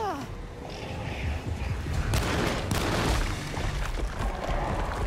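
Gunshots and bursts of fire in the Alone in the Dark video game, loud cracks and rumbling booms clustered in the middle, with tense voices and game sound underneath.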